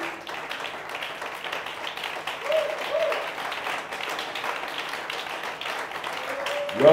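A church congregation applauds and cheers for the Lord in sustained, dense clapping that swells and continues throughout, with a voice rising over the crowd near the end.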